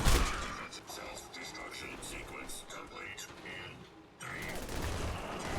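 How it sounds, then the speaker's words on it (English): A sentry bot in Fallout 4 running its self-destruct sequence, a steady dense mechanical rattle and crackle like rapid fire that holds for about four seconds, briefly dips, then swells again, loud and close with whispery noise. "Activate the sentry bot. Now that it's activated, we're going to initiate self-destruct."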